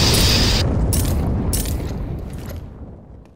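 A wave of missile explosions in CS:GO Danger Zone, a loud rumbling boom with crackling debris that slowly fades out over a few seconds.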